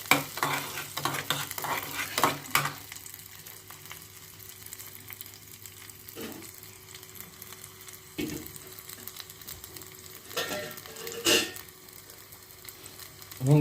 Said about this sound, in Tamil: நல்லா எண்ணெயில் பொரிச்சுட்ருக்காங்க